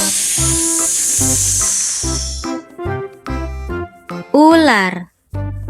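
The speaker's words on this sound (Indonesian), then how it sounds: "Ular." A snake gives a long, steady hiss for the first couple of seconds. Cheerful children's music with a bouncing beat plays underneath and carries on after the hiss fades.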